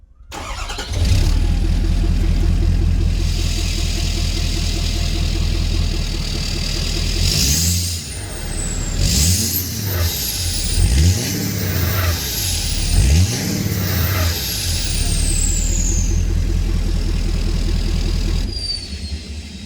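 Ford F350 pickup with a 6.7L diesel engine and a repaired 4-inch exhaust, idling with a steady deep rumble, then revved several times in a row with rising and falling roars before settling back to idle, loud and close.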